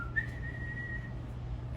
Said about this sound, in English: A high-pitched whistle, that's their defense call.